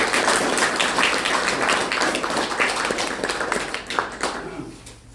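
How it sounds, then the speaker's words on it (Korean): An audience claps loudly at a campaign office opening for an independent candidate in Yongsan, the applause full and dense at first, then thinning and fading toward the end. "박수 부탁드립니다"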